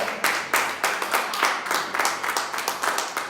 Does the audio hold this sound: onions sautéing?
no